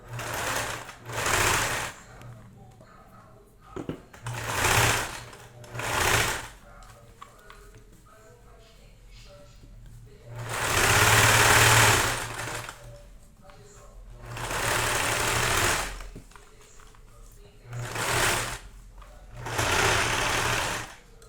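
A sewing machine stitches slowly through thick felt for a child's fox-shaped bag, running in loud bursts of several seconds separated by short pauses, with occasional quiet talk between runs.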